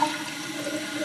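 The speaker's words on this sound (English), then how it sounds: "Go to the bowl, flushes." A household toilet flushes steadily, its water rushing through the bowl at a moderate, even level from start to finish with no voices.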